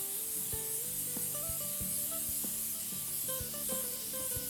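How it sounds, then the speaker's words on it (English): Spray canola oil hisses steadily into a cake pan in one continuous close spritz, under a soft background of music. "You're going to hit it with a little spray canola oil"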